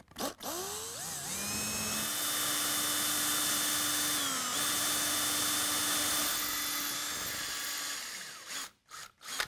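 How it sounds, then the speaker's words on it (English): A power drill bores a hole through the wooden transom of a V-bottom skiff, winding up and then running in a steady, close, loud whine for several seconds before stopping, with a few short bursts at the end. "I'm gonna drill a hole in there, right through to the inside."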